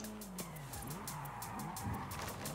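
Tires squeal and skid under a droning engine as a car slides and spins its wheels in the racing game Forza Horizon 5, continuous and moderately loud with no talking.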